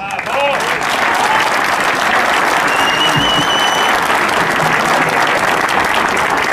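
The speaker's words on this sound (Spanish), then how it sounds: "Los aplausos para el intendente" Loud, sustained applause from an audience greeting a mayor at a public event, a thick continuous roar of clapping at constant strength from start to finish, with faint crowd murmur mixed in.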